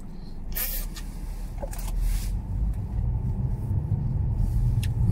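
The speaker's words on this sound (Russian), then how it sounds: "Машины все поехали" Cars pulling away from a parking area in the early morning: a steady low road rumble that swells after a couple of seconds and holds, continuous and fairly near, with no talk over it.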